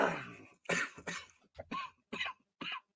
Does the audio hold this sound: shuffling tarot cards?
no